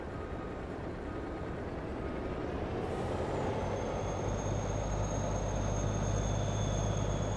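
A loud truck in the farming video game Farming Simulator 22 roars with a heavy, steady engine drone and rumbling low end, while a thin whine rises and then holds near the end.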